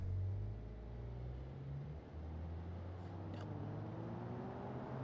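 A car with a 1.8 engine in the Automation driving game accelerates hard off the line, its steady engine drone rising in pitch as it pulls away, loud and close, with no talking.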